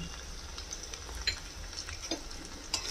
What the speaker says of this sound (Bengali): হলুদের গুঁড়োটাকে এটার সাথে একটু মিশিয়ে দেব